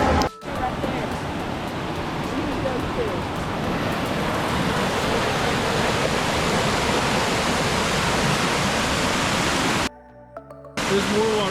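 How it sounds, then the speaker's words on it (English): Steady roaring rush of a waterfall in Boulder, Colorado, loud and continuous, cutting out briefly near the end before resuming. "There's more waterfalls down that way."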